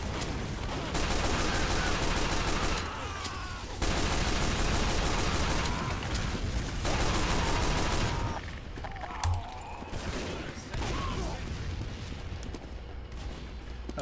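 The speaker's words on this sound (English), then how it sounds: "A suppressive fire here." Sustained suppressive gunfire in Team Fortress 2, a dense, loud barrage of rapid shots and bursts that runs continuously with brief lulls, no talk over it.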